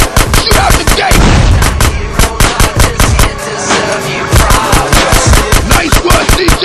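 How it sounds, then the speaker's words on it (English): Rapid, loud automatic gunfire blasting open an old sewer gate in GTA San Andreas on PC, a dense stream of close shots running throughout with a brief lull midway. "Shoot out the gate!"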